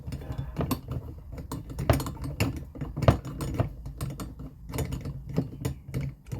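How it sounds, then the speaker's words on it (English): Screw being tightened on a Chinese 62cc chainsaw, a close run of small clicks, ticks and scraping metal contacts in an irregular rhythm, fairly quiet with no talk. "So I'll screw that down, or cinch it down."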